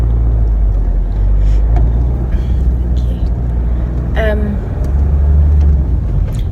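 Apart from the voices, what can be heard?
car driving through busy morning traffic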